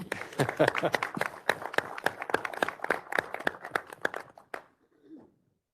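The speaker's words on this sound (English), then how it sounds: "How about a round of applause for Greg?" Applause at an executive committee meeting: a burst of hand clapping from a small group of attendees, steady for about four seconds before stopping, followed by a faint brief sound.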